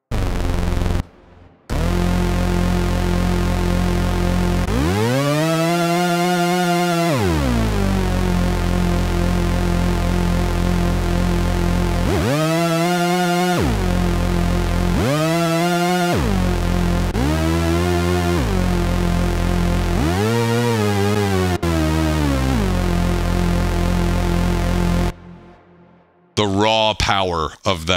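Roland SH-2 analog synthesizer in LFO mode with pulse width modulation, loud, rich buzzing tones that swell and warble in separate sustained bursts, each rising and falling in pitch, with short gaps between them.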